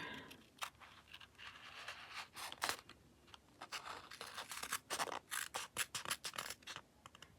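Scissors snip through paper while a green file folder folio is crafted, giving a close run of sharp, scratchy cuts with irregular gaps that grow quicker and more clipped toward the end.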